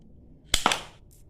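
A toy gun fires twice at a cardboard target, two sharp close snaps about a tenth of a second apart, each with a brief crackling tail, in an otherwise quiet space.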